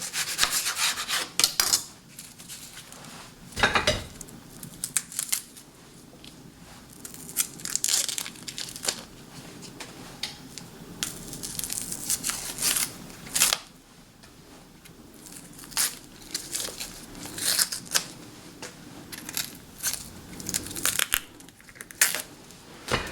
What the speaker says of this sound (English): And then all I'm going to do is cut it down the middle, like that, and then cut it into thin strips.